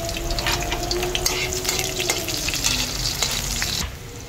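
Garlic frying in hot cooking oil gives a steady, dense sizzle with scattered small pops throughout. It stays close and fairly loud, then drops abruptly near the end, with no one talking.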